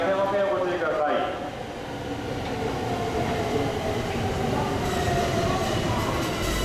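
The last train of the day rumbles and clatters into a Japanese station platform, its wheels rolling steadily, while a public address announcement in Japanese plays over the noise.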